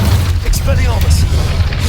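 Expelliarmus spell cast in the video game Hogwarts Legacy: a short, dense booming whoosh of magic effects that fills the brief moment, with a voice mixed in.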